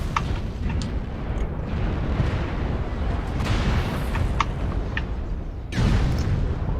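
A mech blowing apart in MechWarrior Online, a dense continuous rumble of explosions and weapon fire with a fresh loud burst near the end, dense battle noise throughout.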